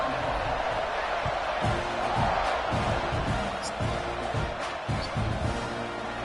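Football stadium crowd before kickoff, a steady broad roar of many voices filling the space, with scattered louder swells and faint shouts underneath.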